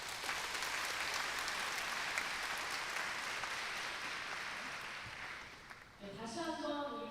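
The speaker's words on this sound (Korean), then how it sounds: "다시 한번 우리 평강교회 청년인 부르터기 김동현에게 큰 박수 부탁드리겠습니다" Steady applause from a church congregation fills a hall, sustained even clapping for several seconds that fades slightly before a voice begins speaking.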